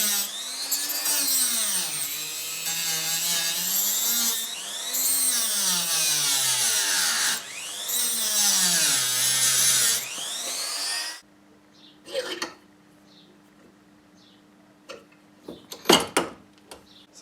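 A high-pitched power tool whines as it cuts into the metal strap of a rub strip on a 1993 Toyota MR2, in three loud sweeping bursts with rising and falling pitch, followed by quieter clicks and a few sharp metallic knocks.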